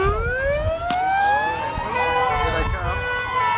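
Fire engine sirens from Buffalo Fire Rescue wail as the appliance arrives in a rally arena, several rising and falling tones overlapping loudly, with a sharp knock partway through and crowd noise beneath.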